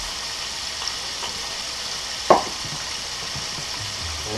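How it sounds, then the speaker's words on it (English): A can of non-stick cooking spray gives a single short, sharp hiss as it coats a waffle maker. A quiet kitchen hum surrounds the burst. "Gonna spray it down with some non-stick cooking spray."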